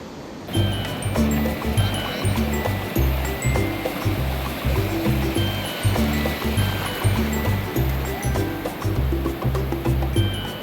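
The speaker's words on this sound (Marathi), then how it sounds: "होमस्टेच्या एक्झॅक्ट समोर रस्त्याच्या जस्ट पलीकडे समुद्र आहे." Sea across the road from a Konkan coast homestay in the morning, with a continuous watery wash of surf, overlaid by a strong, regular low rhythmic thumping like an engine or pump.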